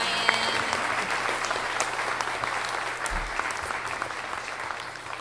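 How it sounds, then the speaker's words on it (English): A crowd at a startup pitch event in Charleston, South Carolina claps steadily for several seconds, a dense, even wash of applause with no voices rising above it. "Let's give another round of applause for Brian."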